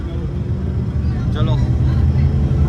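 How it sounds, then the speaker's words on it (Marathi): Low rumbling engine drone of a vehicle pulling away, close and steady throughout, with a faint voice briefly under the noise. "आता आमची गाडी निघलेली आहे"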